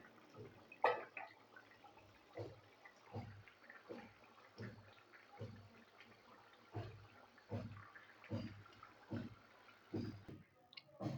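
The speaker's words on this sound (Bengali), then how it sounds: "তো এখন আমি সার্ভিং বোলে ঢেলে দিচ্ছি।" Tel chingri, an oily prawn curry, is ladled into a serving bowl in a string of soft, wet plops and squishes that fall in a steady, quiet rhythm about once a second.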